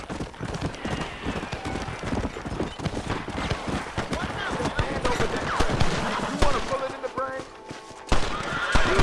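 A horse whinnies loudly amid rapid clip-clopping hooves, with distant gunfire crackling and a voice talking over the busy scene, in the video game Red Dead Redemption.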